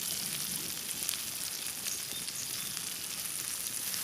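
Bacon fries in a cast iron pan with a steady, soft, crackling sizzle throughout, heard alone without any talking.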